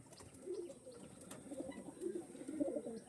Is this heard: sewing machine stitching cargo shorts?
no